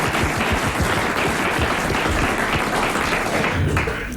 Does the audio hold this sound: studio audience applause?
yes